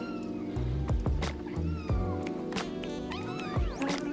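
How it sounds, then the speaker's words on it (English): A pet cat in Brussels meowing repeatedly, loud and close, with several drawn-out rising and falling meows in an irregular sequence and some caterwauling strain, and no talking over it. "And she meows a lot."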